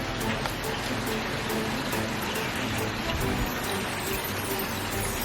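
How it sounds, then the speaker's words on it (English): Rain falls steadily outdoors as a continuous even hiss with scattered patters on surfaces, moderately loud throughout, while a voice speaks faintly in the background. "You're in the rain, girl. It's raining."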